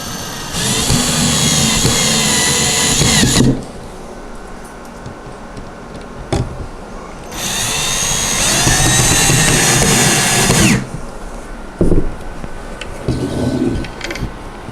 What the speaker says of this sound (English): for this demonstration, I am using a drill